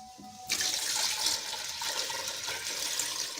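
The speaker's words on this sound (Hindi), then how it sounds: "थोड़ा सा इसमें पानी और ऐड कर रही हूँ।" Water pours steadily into a pot of chicken soup broth, starting abruptly and continuing as an even, splashy stream that stays loud and close throughout.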